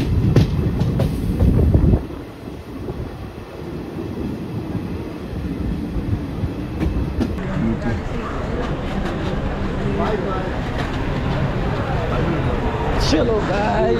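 A local train runs on the line near Thane, producing a heavy rumbling rail noise with a louder burst at the start before it settles into a steady rolling clatter, with indistinct voices in the background.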